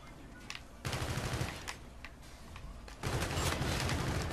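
Call of Duty Infinite Warfare gunfire crackles in quick automatic bursts with sharp individual shots, growing louder and denser toward the end over a continuous rumbling battle bed.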